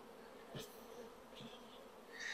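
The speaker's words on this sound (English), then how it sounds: "All we need to do now is just put as many bees in as possible." Honey bees buzz faintly and steadily while being shaken into a hive during a colony split, with a few brief louder passes of single bees close by and no voices.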